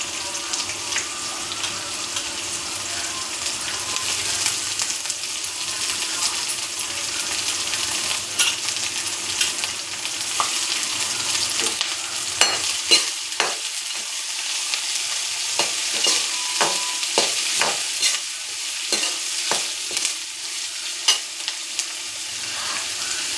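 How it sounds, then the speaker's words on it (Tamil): Onions sautéing in a pan over full heat until golden, a steady bright sizzle throughout, with intermittent scraping and stirring taps growing more frequent toward the end. "வெங்காயம் நல்லா பொன்னிறமாக வதங்கி வரட்டும்"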